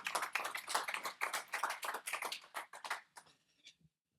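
Scattered hand claps from a small audience at a French business morning on advertising and gaming, a few seconds of uneven clapping that thins out and stops near the end.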